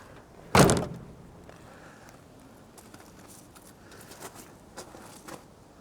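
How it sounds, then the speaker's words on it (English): A newly hung wooden door swings shut with one loud, sharp thud near the start, followed by quiet room ambience and a few faint knocks and taps. "now that we got a door hung, let's see what it looks like when we close it."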